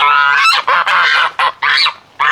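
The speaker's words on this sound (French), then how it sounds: "il y a des oies également qui sont pile en face de mon conteneur" Several geese honk loudly and close by on a farm near Darwin, Australia, a series of harsh nasal calls in quick bursts with short pauses between them.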